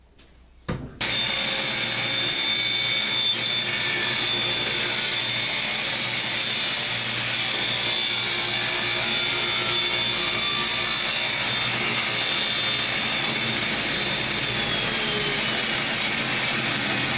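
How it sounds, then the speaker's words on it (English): A thickness planer roars loudly and steadily as scrap wood for a cutting board feeds through, a harsh, high-pitched whine that starts abruptly and runs without a break. "It's just noisy running it through that darn planer"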